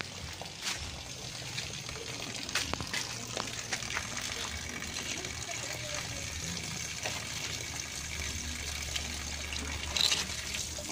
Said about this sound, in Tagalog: ilagay lang natin itong hose para dire-diretso. Lagay natin dito sa may reservoir.